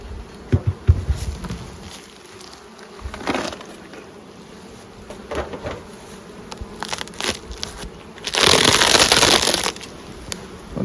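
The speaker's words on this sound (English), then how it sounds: "plenty of bees." Honeybees at an open hive during a nectar dearth buzz close by in a steady drone, broken by scraping and crackling handling noises and a louder rustling burst near the end.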